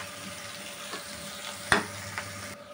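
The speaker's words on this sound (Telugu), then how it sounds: "ఇప్పుడైతే 1 నిమిషం వేయించుకున్నాం" Broad beans (chikkudukaya) fry in a pan with a soft continuous sizzle, broken by a single sharp clack of a spoon or lid partway through.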